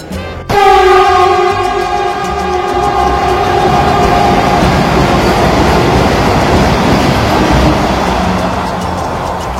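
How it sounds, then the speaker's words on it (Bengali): An Amrit Bharat Express sounds a loud, sustained horn blast as it crosses a Vande Bharat train at high speed, then a heavy steady roar and rumble of rolling wagons fills the rest, close and without voices. "এই মুহূর্তে আমরা বন্দে ভারতের সাথে ক্রসিং দেখতে পেলাম বন্ধুরা"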